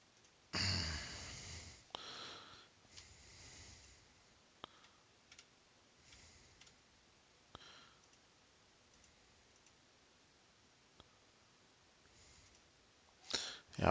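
Sparse, faint computer mouse clicks while working in GeoGebra, single sharp ticks spaced irregularly several seconds apart, with a few louder bursts of handling noise in a quiet room.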